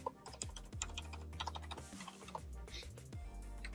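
Rapid, muted typing on a Corsair Strafe RGB keyboard with MX Silent switches, a dense stream of soft keystrokes close up, with a faint voice underneath.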